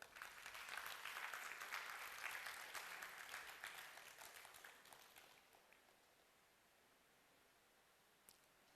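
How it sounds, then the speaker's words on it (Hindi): Applause from an audience at a spiritual study camp session in Nikora, Gujarat, a dense wash of clapping that fills the first five seconds, then fades away into quiet room tone. "सभा के लिए जोरदार तालियां"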